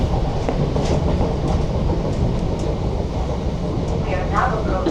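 A Glasgow Central to Paisley Canal passenger train runs along the line near Dumbreck with a deep continuous rumble and scattered wheel clicks and squeaks, heard from inside the carriage.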